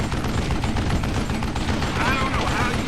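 Rapid gunfire in a zombie video game, dense continuous bursts of shots under a player's voice.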